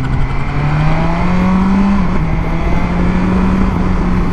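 A motorcycle engine revs up steadily to pass another vehicle on a road near Bolinao, its rising drone held loud and close with wind noise throughout, a brief dip mid-pull before climbing again.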